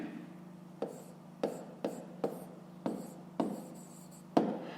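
A pen writing on paper while a fifth-grade maths exercise is being solved: quiet, close scratching comes in short strokes, with about eight distinct bursts at an uneven rhythm.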